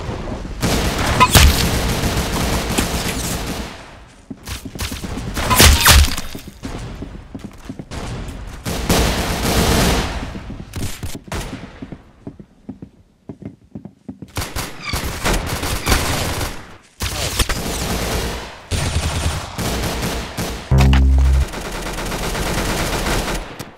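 Video game gunfire crackles in loud, rapid bursts and volleys, like automatic weapons, with brief lulls between the barrages and heavy booming hits mixed in.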